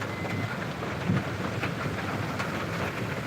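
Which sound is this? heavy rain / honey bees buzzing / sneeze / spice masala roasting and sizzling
heavy rain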